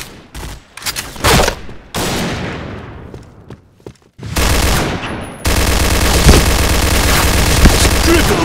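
Gunfire in Project Blackout, from sharp separate shots and short bursts early on to sustained loud automatic fire in the second half, close and dominant.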